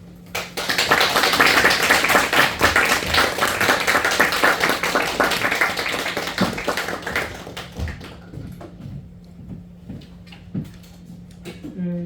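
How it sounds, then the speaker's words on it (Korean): Church congregation claps to welcome a visiting professor for a Christian worldview lecture, a loud burst of many hands that thins into scattered claps and taps before fading to near quiet. "나오실 때 한번 우리 박수로 한번 환영하도록 하겠습니다"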